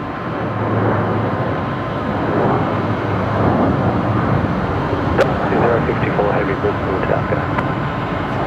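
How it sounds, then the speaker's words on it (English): An ASL Airlines BAe 146 jet taking off at Brisbane Airport at night, a broad distant engine roar that swells slightly, heard under someone talking. "ASL Airlines, the 146 there, heading off likely to Sydney"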